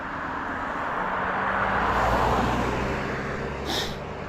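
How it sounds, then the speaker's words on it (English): A car approaches from behind on a rural road in Maine, its engine noise swelling steadily to a broad roar and then easing, heard alone without voices. "can hear a car coming behind me"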